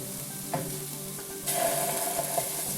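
Tomato paste sizzles with softened garlic in a hot pan while being stirred, a close, steady frying hiss that grows louder halfway through, broken by a couple of scraping stirs.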